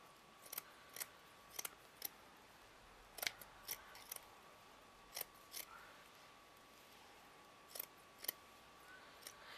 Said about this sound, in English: Let's turn that over and cut this bit out.